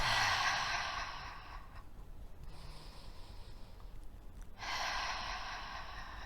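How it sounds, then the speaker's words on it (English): Breathing in through the nose and out through the mouth during hatha yoga, a long breathy exhale near the mic, a quieter pause, then another strong airy breath. "breathing in the nose and out the mouth"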